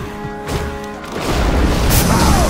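A tower falls in a Dota 2 match, a short game tone giving way to a loud, rumbling boom and crumbling crash that fills the second half.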